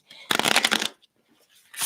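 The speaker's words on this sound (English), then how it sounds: "So I'm just going to quickly shuffle" A deck of tarot cards is shuffled quickly up close, a dense riffling burst lasting about half a second, followed by quiet and a brief start of another shuffle.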